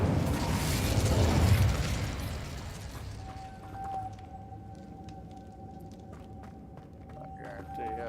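A fire spell cast in Hogwarts Legacy erupts in a roaring, broadband whoosh that fades over a few seconds into a low rumble with a thin sustained tone and faint crackles.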